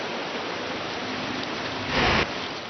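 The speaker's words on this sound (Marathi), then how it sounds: "प्रचंड पाऊस आहे" Heavy monsoon rain pours onto a flooded street in Bhiwandi, a steady broadband hiss that swells briefly louder near the end, with no voices.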